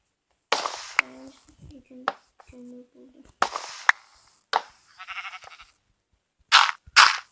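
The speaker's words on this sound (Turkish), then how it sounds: "Onun koyun sesi geliyor." In Minecraft, several short, nasal sheep bleats ring out in separate bursts, with brief pauses and a few sharp clicks between them.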